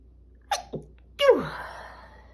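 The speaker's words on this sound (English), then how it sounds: "Oh, I'm gonna sneeze." A single person sneezes nearby: a couple of short sharp inhalation catches followed by one loud explosive sneeze that trails off into a breathy exhale, with no talking.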